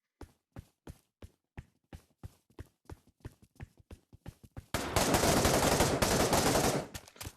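Gunfire in the VR shooter Pavlov VR: a series of sharp single shots at a steady rhythm, then a loud continuous burst of rapid automatic fire lasting about two seconds, followed by one more shot.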